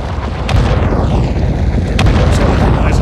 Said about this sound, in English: let's just turn the drills on from out here